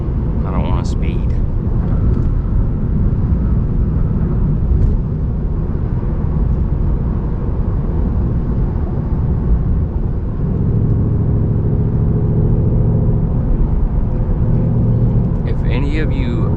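Ford Mustang engine pulling at full throttle, a loud, continuous low rumble heard from inside the car that builds and shifts in tone midway, with faint voices briefly at the start and end.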